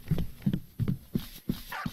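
Dogs in the video game Survival: Postapocalypse Now give a quick string of short, close barks, about six evenly spaced yaps within two seconds.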